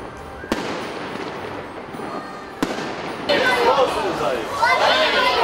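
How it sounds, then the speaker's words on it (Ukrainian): Fireworks bang and crackle over a murmuring crowd at the close of a Christmas festival, with sharp pops followed by a dense burst of crackling toward the end. "Закрився третій різдвяний фестиваль Віфлеємська зірка святковим феєрверком."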